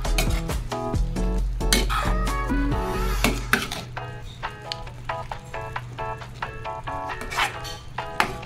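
Utensil stirring sautéed mixed vegetables with dried shrimp and kangkong stock in a pan, with clinks and scrapes against the metal over a soft sizzle, fairly close and without talk.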